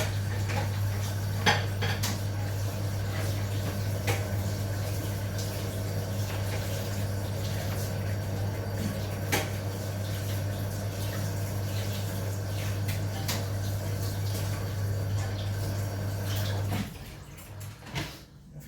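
A plate being washed in a kitchen sink under running water, with steady water flow and dish and cutlery clinks throughout until the water stops near the end, close and with no talk.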